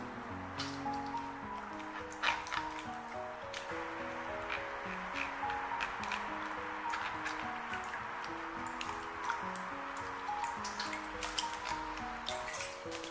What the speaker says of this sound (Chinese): 5分钟以后我们一片一片的给它清洗干净。